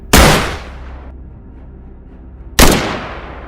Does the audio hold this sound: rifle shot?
yes